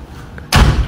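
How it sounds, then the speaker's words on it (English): A door slams shut halfway through with one loud, heavy thud after a quiet moment, then fades into room noise. "Why you slam it?"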